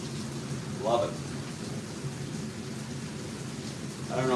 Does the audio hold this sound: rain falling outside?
yes